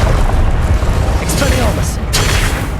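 Spell blasts in Hogwarts Legacy, a couple of sharp bursts over a dense, loud game soundscape with a voice calling out.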